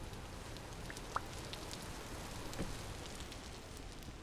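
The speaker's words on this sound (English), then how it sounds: "And it's still raining here, as always." Steady soft rainfall at night in a heavily modded Minecraft world, a faint even hiss of drops throughout with a couple of small isolated clicks, no voices.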